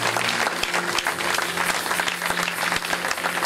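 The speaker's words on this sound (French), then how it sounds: "Let's give Prophet Stephen a wonderful hand." Church congregation applauding for Prophet Stephen at a worship service, a steady, dense wash of clapping from many hands that fills the room throughout, with a few voices mixed in.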